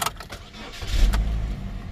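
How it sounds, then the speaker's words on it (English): A Chevy Cobalt with its gauge cluster removed cranks briefly, then its engine catches and settles into a steady low rumble, close and fairly loud. "Now you can still start the car without this gauge cluster being in."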